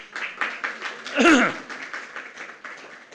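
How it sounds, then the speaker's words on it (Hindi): Rhythmic clapping rises from an audience at a Jain religious gathering in Ayodhya, with even, evenly spaced claps. A brief voice cuts in over them midway. "ताली बजा दो आज।"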